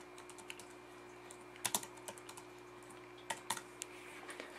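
Keystrokes on a computer keyboard while entering code, sparse and faint with a few louder clustered clicks against a steady electrical hum.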